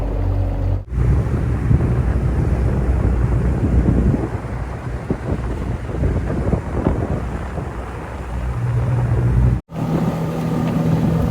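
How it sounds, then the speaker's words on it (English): Strong wind buffets the microphone in heavy, rumbling gusts on a bay while fishing, with a roaring outdoor wash and brief sudden cuts in the sound. "It's very windy,"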